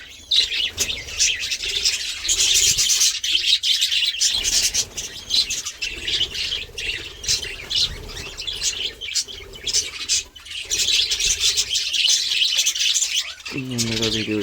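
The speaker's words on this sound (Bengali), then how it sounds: "দেখুন একটা ঝাঁক পুরো ভর্তি পাখি," A large flock of birds feeding, with dense, continuous high chirping and tweeting throughout, occasional squawks and fluttering wings, steady and fairly loud.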